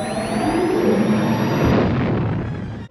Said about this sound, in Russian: А звук, с которым тысячелетний сокол уходит в гипердрайв,